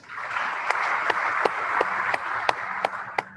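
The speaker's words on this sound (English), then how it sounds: "Another round of applause, please." An audience at a ceremony applauds with a steady wash of clapping, with a few sharp, louder individual claps standing out at a regular pace.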